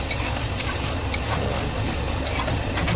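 Spiced chicken being stirred and sautéed in a pan, a dense, continuous sizzle with faint scraping of the spoon, steady and close throughout with no talking.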